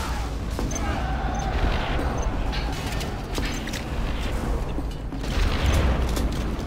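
Quad cannon in Command & Conquer Generals fires in dense, rapid bursts amid battlefield explosions and booms, a continuous clattering barrage with heavier thumps scattered throughout, layered under game unit voice lines.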